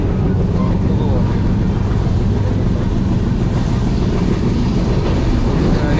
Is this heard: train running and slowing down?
yes